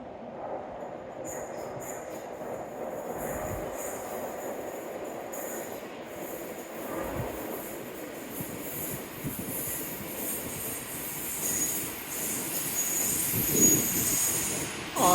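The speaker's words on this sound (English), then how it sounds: "And as if by magic, my train arrives." A train pulls into a seaside station at Dawlish, its wheels squealing with high, sustained metallic screeches over a steady rumble of rolling carriages that grows louder toward the end.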